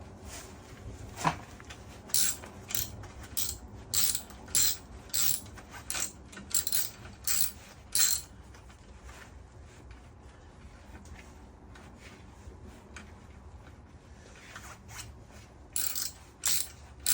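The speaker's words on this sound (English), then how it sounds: "Let's put that 10mm socket back on there. Try to tighten it up." A ratchet wrench with a 10mm socket clicks in quick bursts of repeated pawl ticks while tightening a fitting on a motorcycle radiator during a swap, close and fairly loud, with pauses between strokes and no talking.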